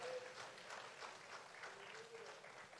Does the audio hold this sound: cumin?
no